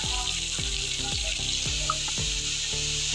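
Sliced onions sizzle loudly in hot oil as they go into a pan of browned chicken with garlic paste, a steady frying hiss broken by repeated soft clunks of stirring.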